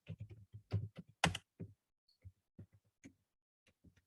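A keyword is typed on a computer keyboard: a quiet, close run of uneven key clicks and taps, with a quick burst of strokes early and sparser presses afterward.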